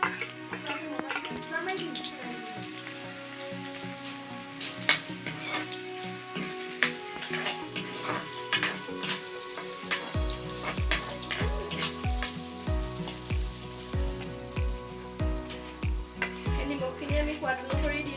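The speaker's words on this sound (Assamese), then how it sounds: "গৰম হোৱাৰ পাছতে আমি গোটেইখিনি দি দিম, মছলা আৰু পিঁয়াজখিনিৰ সৈতে। পিঁয়াজ দি দিম এতিয়া।" Chopped onions and spices drop into hot oil for a local chicken curry, setting off a steady loud sizzle with scattered clinks and scrapes; a voice talks at times over the cooking.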